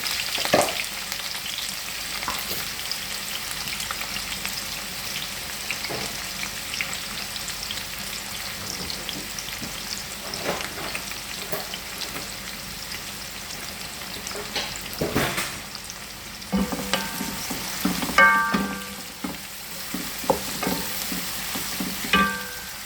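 Three chopped onions fry in a pan for spinach dal, a steady, fairly loud sizzle with occasional stirring scrapes and clinks, no voices.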